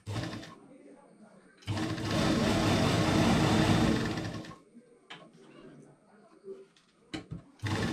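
A sewing machine stitches a nighty neckline in one loud, steady run of a few seconds, with a person talking before and after it.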